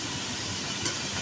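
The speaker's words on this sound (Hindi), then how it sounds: "कढ़ाई में मैंने शामिल कर दिया सफ़ेद ज़ीरा और चिकन। इसको कलर चेंज होने तक अच्छे तरीके से फ्राई कर लेते हैं।" Chicken pieces with white cumin fry in a hot kadai, giving a steady, close, broadband sizzle and hiss with a brief louder crackle burst partway through, no voices.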